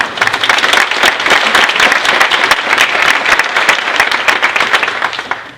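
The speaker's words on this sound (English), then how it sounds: "let's give her a round of applause" A crowd at a gardening and horticulture symposium applauds steadily, many hands clapping in a dense, loud wash that holds for several seconds before easing slightly at the end.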